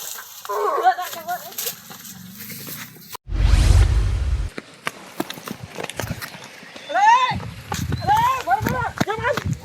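Horse hooves pound in a short burst of galloping on farmland, a loud, noisy rush in the middle, while people shout and talk excitedly before and after.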